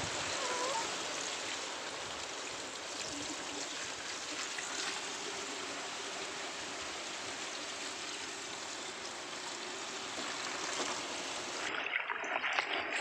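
Boiled brotowali water poured over pounded roots, a steady close splashing rush of liquid that continues without break for the whole stretch and stops abruptly near the end.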